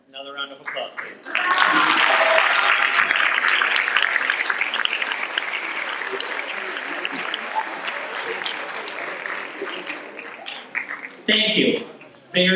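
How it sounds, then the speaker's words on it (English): An audience at a Shakespeare recitation competition final bursts into loud, sustained applause that tapers off, with a speaker's voice briefly before it and returning at the end. "Another round of applause, please."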